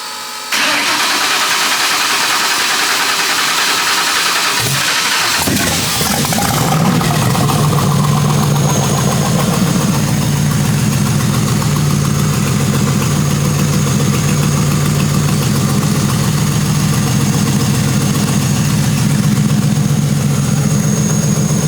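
A twin-turbo Ford Crown Victoria engine, recently rewired after sitting without a battery, cranks through a brief starter whir and catches around five seconds in, then settles into a steady, loud, rumbling idle close by.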